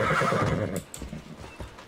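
A horse in the video game Assassin's Creed Odyssey gives a loud, close whinny, followed by a few soft hoof clip-clops as the ride continues, with no speech.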